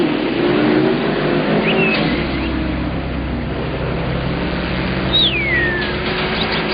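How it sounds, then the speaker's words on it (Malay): A lorry speeds past in an animated cartoon, a loud, steady engine roar that holds through the whole stretch with no pause. "Lori suat khabar lah. Apa laju sangat tu?"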